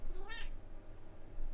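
A house cat gives a single clear meow, close by, asking for treats, over a low steady background hum and then quiet.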